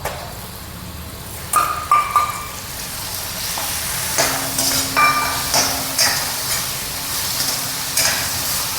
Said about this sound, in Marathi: आपण आता चिरलेला टमाटर टाकूया.